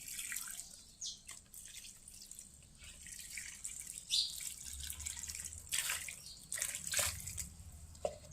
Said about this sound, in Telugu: ఇలా పెట్టుకొని వాటర్ తీసుకొని అన్నిట్లో ఇలా పోయాలండి.